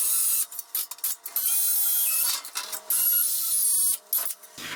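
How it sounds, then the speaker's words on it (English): Drill whining while it bores out rivets on an aluminum boat ladder, a loud high-pitched grinding that starts and stops in short bursts and is heard close up. "I'm going to try to drill these rivets out now so that we can get all the pieces out"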